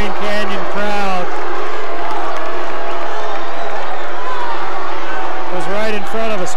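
Cheering and murmuring from the home crowd at a Green Canyon basketball game against Stansbury rise and fall as a continuous wash, with someone talking over it at the start and end.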